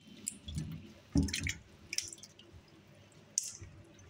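Soaked vegetables are washed in water, giving faint drips, small splashes and squishy handling sounds in short bursts.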